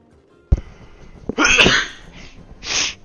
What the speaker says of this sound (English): that was a painful sneeze.